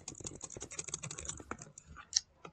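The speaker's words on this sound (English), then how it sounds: "I'm just gonna end this off by jitter clicking" A computer mouse is jitter-clicked during a Minecraft-style survival session, a rapid, dense stream of sharp clicks that thins out and stops near the end, close but fairly quiet, with no talk.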